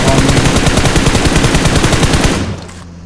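An M4 assault rifle fires full-auto in the shooter game PUBG/BGMI, a loud, close, rapid burst of evenly spaced shots for about two and a half seconds before it stops abruptly with a brief tail.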